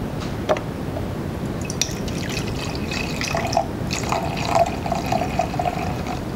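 Vinegar pours into a measuring container, a steady trickling fill with small drips and splashes rising slightly toward the end, close and moderately quiet.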